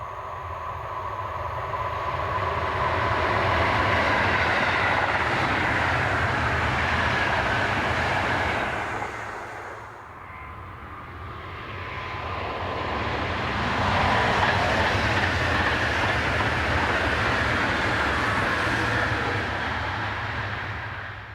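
A Danish intercity train unit, a mix of diesel and electric, rumbles past near Middelfart on a service east to Copenhagen, a loud sustained roar that dips briefly midway then swells again before easing off.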